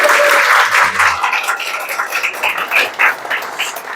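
Audience at a lecture event applauds, a short burst of clapping that stays steady then thins and trails off over a few seconds.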